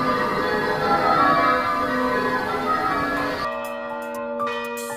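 Dense, clanging peals of several carillon bells in Bathurst ring out together, then fade to a lingering hum of overtones as the ringing stops.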